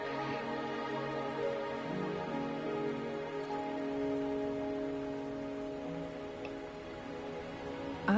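Steady rain falls in the video game Wuthering Waves, a dense continuous patter over soft layered background music, with no speech.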